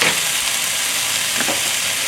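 String beans sauté in a hot pan with ginger and garlic, giving a steady, close, bright sizzle with a faint stirring scrape partway through and no talking.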